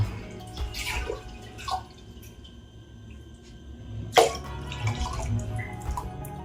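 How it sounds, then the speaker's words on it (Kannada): Water poured into a cooking pot, a few splashing bursts and drips spread over several seconds, near and fairly clear, with one sharper splash partway through and no talk. "ನೀರು ಹಾಕೋಣ ಆಮೇಲೆ ಮರಿಸ್ಬೇಕಷ್ಟು"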